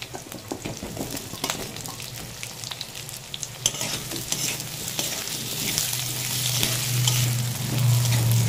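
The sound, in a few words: potatoes frying and being stirred in a pan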